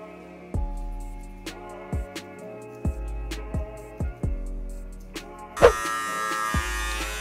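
An electric trimmer buzzes steadily close up while lining up a young man's beard at a barbershop, with sharp taps and clicks scattered throughout and a brighter, harsher buzz near the end.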